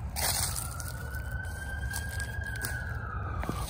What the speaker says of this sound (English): I need to wait for that siren to go by in the road